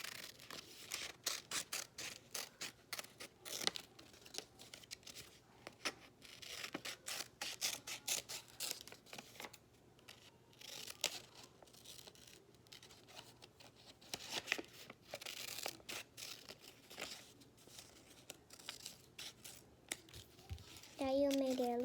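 Scissors snip out a small paper suit for a little stuffed grandpa toy, giving a long run of close, quick crisp cuts and rustles with pauses between, while a voice talks quietly at times.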